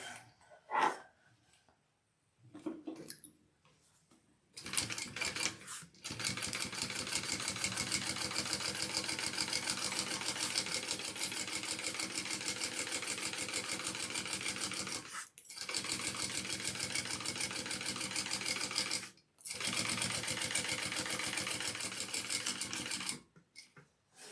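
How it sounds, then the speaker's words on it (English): A sewing machine top stitching along the base of a handbag runs in long steady bursts of rapid rhythmic stitching, stopping briefly a few times, after some quiet handling noises at the start. "top stitch along our base piece"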